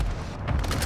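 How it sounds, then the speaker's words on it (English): Airstrike explosions in Call of Duty: Modern Warfare 2 give a heavy, rumbling boom with deep low-end roar, filling a brief burst of battlefield noise. "Friendly airstrike on the way."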